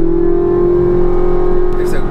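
A sports car engine revs high in sport mode with a metallic whine: a loud, steady tonal drone that holds and then climbs near the end.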